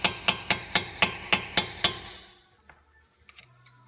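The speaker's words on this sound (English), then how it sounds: "use a hammer to get the shaft out. After a few hits, we're able to get the shaft out." Eight sharp metallic hammer blows land on a metal shaft in a quick, even rhythm, up close, while removing the shaft during a front brake pad replacement on a 2006 Porsche Cayman S, followed by a few faint clinks and then quiet.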